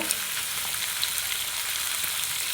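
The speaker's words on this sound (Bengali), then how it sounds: "জিরে গুঁড়ো দিয়ে আলুটা খুব ভালোভাবে কষাবো" Potatoes sautéing in a pan with ground coriander and cumin, a steady bright sizzle and hiss that holds evenly throughout, close and fairly loud with no voices.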